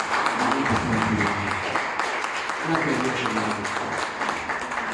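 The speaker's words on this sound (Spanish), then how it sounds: "Pues denle un aplauso al Señor" A church congregation applauds the Lord during a sermon, a continuous rattle of clapping hands that stays loud throughout while voices call out over it.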